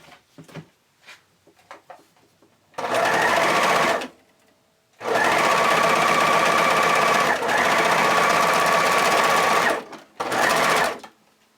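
A sewing machine stitches around the curves of underwear fabric in three bursts, loud and close, with short pauses between runs and a longer continuous stretch in the middle.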